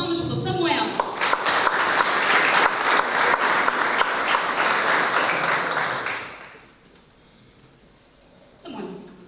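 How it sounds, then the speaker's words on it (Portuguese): An audience at a cultural soirée claps warmly for a boy named Samuel. The dense, loud applause lasts about six seconds, then fades out quickly, and a voice is briefly heard afterward. "Uma salva de palmas para o Samuel."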